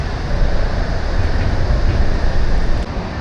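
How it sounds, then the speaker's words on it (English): An Amtrak passenger train passes near the Missouri River at Jefferson City, a loud, steady rumble and roar that persists throughout without voices. "There's an Amtrak going by."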